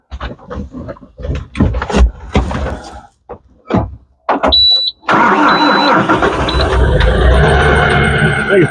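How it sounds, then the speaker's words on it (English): A small-farm tractor engine cranks after a stretch of brief knocks and handling noises, then catches and settles into a loud, steady running rumble that fills the second half, with no talking. "I'm curious as to what happens when I get on it and crank up the tractor"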